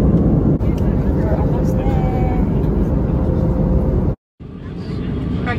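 Inside an airplane cabin after landing, a steady loud engine and ventilation rumble fills the space with faint voices, then cuts out briefly before resuming.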